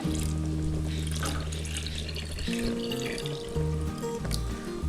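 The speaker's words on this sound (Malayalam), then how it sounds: "തിളച്ചതിന് ശേഷം ഞാൻ ഇതിനകത്തേക്ക് തേങ്ങാപ്പാൽ ഒഴിക്കുവാണ്" Coconut milk pours steadily into a pot of jackfruit payasam for several seconds, a continuous watery rush over a low kitchen hum.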